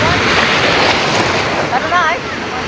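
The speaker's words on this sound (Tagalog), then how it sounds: "ang lakas ng alon dito" Strong ocean waves wash and crash along the rocky shore of Isla Verde, Batangas, in a loud, rough surging rush buffeted by wind noise, with a voice briefly calling out over it.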